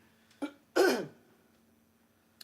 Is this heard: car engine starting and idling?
no